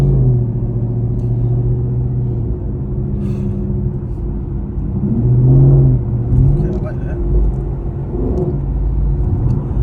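A 2015 Ford Mustang GT with a 6-speed gearbox rumbles from inside the car while driving, its low engine drone steady and swelling briefly midway, with a person talking over it.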